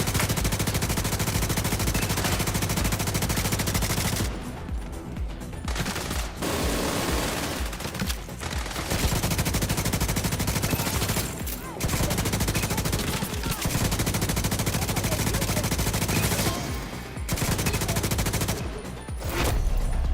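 Sustained, loud bursts of mounted turret fire from The Division 2 rattle almost nonstop for twenty seconds, broken by a few brief lulls before the automatic fire resumes.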